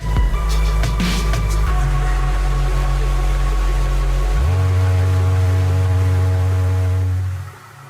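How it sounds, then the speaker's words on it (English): Electronic music ending from the Roblox game DOORS, closing on sustained droning chords with a deep bass note, shifting pitch midway, then fading out at the end. "the track actually has an ending to it that you can never hear in-game that sounds like this."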